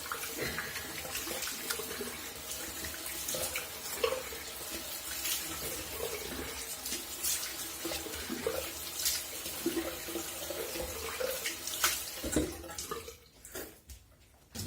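Tap water runs steadily into a sink as a razor is rinsed after a shave, a continuous close splashing flow that fades out near the end.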